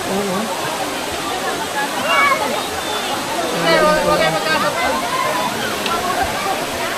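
A waterfall in summer where many people are swimming. It gives a steady, loud rush of falling water throughout, with voices and splashing mixed in.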